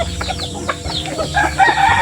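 Repeated clucking from a fighting rooster, close and fairly loud, with short bursts overlapping against a busy farmyard background.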